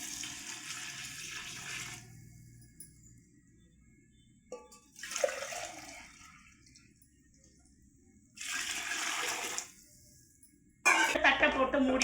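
Water poured into a cooking pot of rice for homemade chicken biryani, heard as a few separate splashing bursts of pouring, moderately close, with quieter gaps between them.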